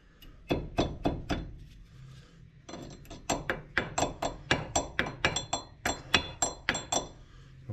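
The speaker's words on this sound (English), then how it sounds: "I can't hold you and beat with the hammer." Repeated hammer blows strike a 2014 Mitsubishi Outlander wheel bearing and axle in a shop, sharp metallic clanks landing in two bursts of steady, evenly spaced hits with a short pause between, fairly close and loud.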